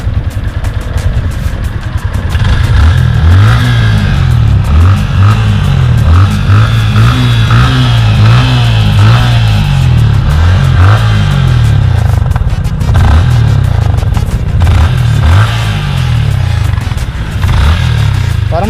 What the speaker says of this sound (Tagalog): Ito na yung tunog ng makina ng Sniper 155 ko.